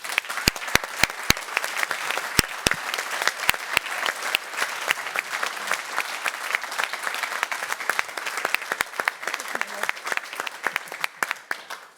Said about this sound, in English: a big applause for Jung von Matt